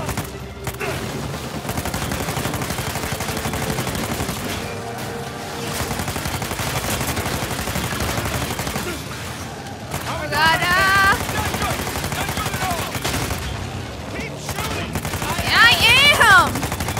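Rapid bursts of gunfire and automatic weapon fire crackle throughout a car chase in the video game Uncharted 4: A Thief's End, with sharp shots and occasional whistling tones, set against a continuous noisy game soundscape.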